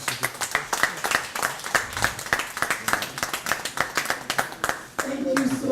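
A press conference audience against drug and substance abuse in Nigeria keeps up rhythmic hand clapping, close and steady, before the claps give way to a brief stretch of voices at the end.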